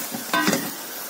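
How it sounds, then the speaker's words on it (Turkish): Pieces of lamb and chopped mushrooms stirred in a hot pot while cooking kavurma: a brief scraping stir over a soft, close sizzle that lasts about a second. "tekrardan karıştırma işlemini gerçekleştiriyorum"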